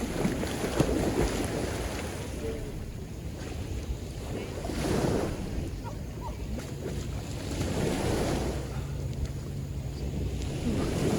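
Ocean waves surge and wash ashore in broad rolling swells at a beach, with steady wind buffeting the microphone throughout; no voices, just continuous surf noise rising and falling.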